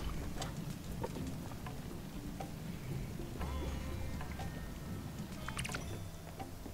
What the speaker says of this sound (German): Dieser Regen, der hat sowas Einschläferndes.